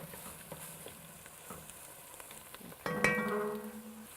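A pan of shrimp, tomato and onion stew cooks quietly at first. Near the end it flares into a louder, steady sizzle and bubbling with a clattering stir.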